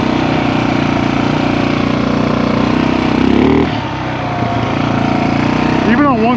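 An old Yamaha TT350 motorcycle that sat for years runs loud and close on a single carburetor, a steady thumping drone with a brief dip in the middle before it picks back up.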